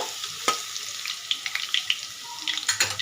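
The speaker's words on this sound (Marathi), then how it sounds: "आपल्याला ती पेस्ट त्यामध्ये घालायची आहे आणि व्यवस्थित आपल्याला ते लसूण त्यामध्ये फ्राय करून घ्यायचं" Garlic paste fries in hot oil for a Marathi besan vadi dish, a close crackling sizzle with frequent sharp spatters and stirring clicks.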